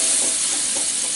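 Fried rice with spices sizzling and being stirred in a pan, a steady close crackling hiss throughout with no talk.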